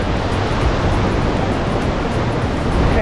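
A Himalayan river rushes close by along the Srinagar–Leh highway near Zoji La, a dense, steady roar of flowing water that fills the whole short stretch with no voices.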